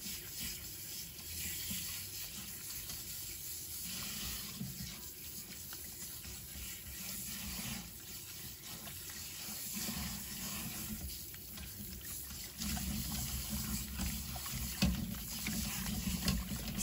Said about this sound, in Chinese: 放入盆中，用流动水把它清洗一下。